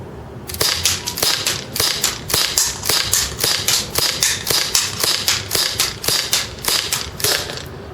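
A TSD M1911 airsoft pistol rapidly fires BBs at a target about 100 feet away, a fast series of sharp, crisp snaps in quick succession that are loud and close, with no talking.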